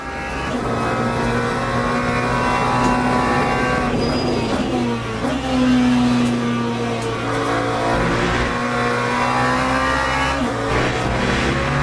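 Race car engine in a sim-racing video game, loud and continuous with steady drone and shifting revs, pitch dropping and climbing through gear changes, alone without talk.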